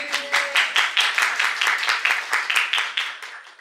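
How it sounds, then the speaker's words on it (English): Hands clap in a quick, uneven run of distinct claps at a hackathon opening ceremony, fairly close and loud, tapering slightly toward the end. "Clap for me."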